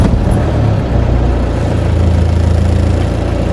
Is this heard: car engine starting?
yes